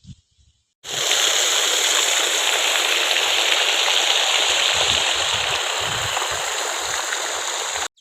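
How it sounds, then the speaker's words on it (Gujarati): Heavy village rain falls as a steady, loud, close hiss that starts abruptly and holds unbroken for several seconds. "આમ જો અમારા હાથીનો વરસાદ ચાલુ"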